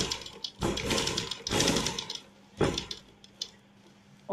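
Sewing machine stitching lace patti along a square neckline corner, with several short bursts of rapid mechanical stitching separated by brief pauses, close and fairly loud.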